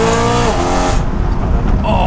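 A BMW M140i-type hatchback engine growls steadily while driving, loud and close from inside the cabin, with a rising harmonic whine in the first second before settling into a rough, continuous drone.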